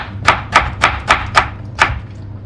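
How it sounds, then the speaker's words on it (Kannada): A knife chops through two washed tomatoes in a home kitchen while pulimunchi fish curry is prepared: six crisp, evenly spaced cuts land close up against the board, with no talking. "ಟೊಮೆಟೊ ಕಟ್ ಆಯಿತು."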